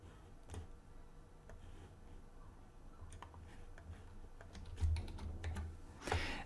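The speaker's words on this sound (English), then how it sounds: "let me type credentials as well" Keys on a computer keyboard clack in quick irregular runs as credentials are typed in, fairly faint and close, with pauses between bursts and a heavier thump near the end.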